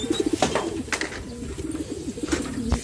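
Racing pigeon cooing on arrival at the loft during club training, soft repeated coos in short bursts close by, with a light flutter of wings and faint background noise.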